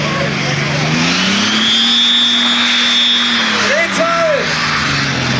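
A heavily tuned old Deutz pulling tractor nicknamed Feuerteufel, at a 1992 Füchtorf tractor pull: a loud engine note climbs and then holds, a brief whine rises and falls near the end, and an announcer talks over it.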